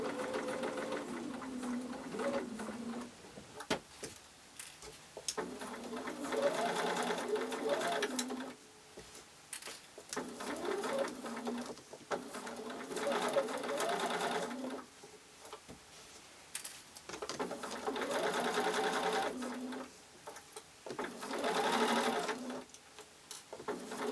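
A sewing machine stitches a seam across a small change purse in repeated runs of steady whirring, stopping and restarting several times, close by, with a voice talking in the gaps.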